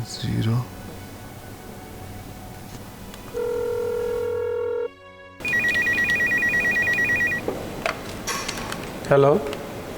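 An electronic ringing tone repeats in steady bursts, with a short dialing beep earlier and brief voices around it.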